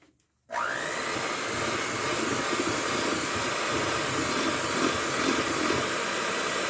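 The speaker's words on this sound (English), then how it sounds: "Let's grab my hand mixer in here." An electric hand mixer starts abruptly and whirs at a steady, loud drone as it beats eggs and sugar for cake batter, its motor tone constant with a faint scraping texture from the bowl.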